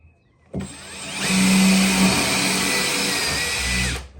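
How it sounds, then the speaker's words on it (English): A power drill with a tile bit bores through wall tile backed by wood while a thermostatic bar shower column is being fitted. Its loud, steady whine runs unbroken for about three and a half seconds at close range, with no talking. "you can drill them holes. All you need is a good tile bit."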